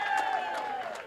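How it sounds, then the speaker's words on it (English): Applause from a crowd gathered at an outdoor farmers market event in Roslindale, Boston, a steady wash of clapping held for about a second, with faint voices mixed in. "how about a round of applause for the best farmers market in the entire city of Boston?"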